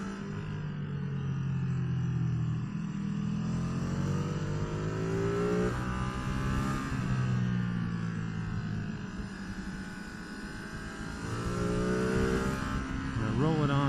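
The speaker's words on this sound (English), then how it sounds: "when I give it gas, it stutters, it stumbles." A Ducati Streetfighter V2 motorcycle engine riding on mountain roads, its note rising and falling with throttle and wavering irregularly as it stutters and stumbles, heard close over heavy wind rumble.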